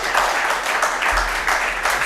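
Audience at an open mic ghazal night clapping in a steady, moderately loud wash that swells and dips slightly over two seconds, with no voices over it.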